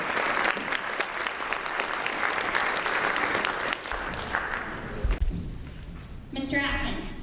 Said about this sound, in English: Please give a round of applause to the precinct.